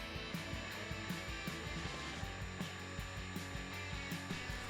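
An aluminum workpiece being cut on a CNC router with an Arrena tool 51402 at 10,000 RPM and 30 inches per minute: a steady loud spindle whine with rhythmic, vibrating chatter pulses repeating throughout, no voices.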